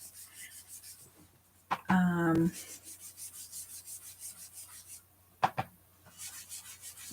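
An ink blending sponge rubbed across a spring card, making soft scratchy rubbing strokes in short bursts, close up, with one sharper scrape partway through and faint background hiss.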